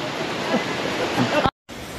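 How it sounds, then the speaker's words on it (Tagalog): Lintungan Falls and the river below it roar as a steady, loud broadband rush of falling and flowing water. The sound cuts out briefly near the end, then the same rush resumes. "Tignan natin ang Lintungan Falls. Ito yung ilog oh."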